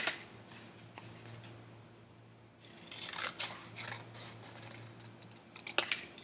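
Scissors snip through paper to cut shapes for a collage, a few quiet crisp cuts and rustles spread across a soft, low background hum.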